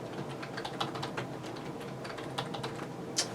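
Someone typing on a computer keyboard while setting up a Home Assistant account, with a steady run of close, quiet key clicks and a sharper keystroke near the end, no talking.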